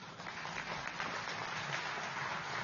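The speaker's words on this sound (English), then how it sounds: "A big round of applause for them." A fairly faint, even wash of audience applause follows a string quartet's performance at a white coat ceremony, many hands clapping continuously at a distance with no speech over it.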